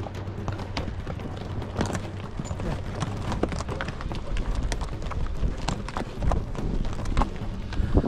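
A horse carries a rider up a steep mountain trail beside a cliff toward Humantay Lake in Peru, its hooves clip-clopping steadily and close by over a continuous outdoor wash, with some faint voices.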